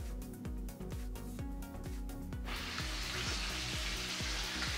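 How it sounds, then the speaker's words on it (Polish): Chicken pieces crackle and sizzle skin-side down in a hot pan, and the hiss grows suddenly louder partway through, over a steady low pulsing background. "Pamiętajcie, żeby smażyć skórą do dołu na początku."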